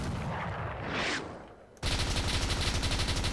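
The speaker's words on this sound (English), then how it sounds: "There's a machine gun." Rapid machine gun fire from a WW2 tank in the video game ARMA 3, a dense, even stream of loud shots that cuts in abruptly after a quieter stretch of engine rumble and a whooshing swell.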